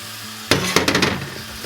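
Cut-up beef rump steak hits rice bran oil in a hot pan, giving a sudden burst of sizzle with a few sharp spits and crackles, then settling into a steady, fairly close frying hiss with no talk.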